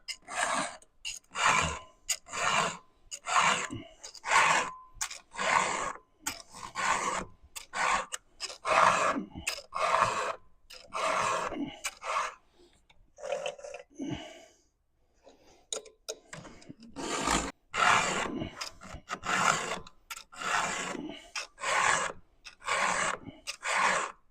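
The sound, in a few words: hand filing to sharpen a chainsaw chain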